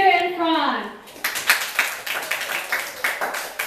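After a voice at the start, a small class audience at a debate claps for the speakers in uneven, moderately loud bursts that continue to the end.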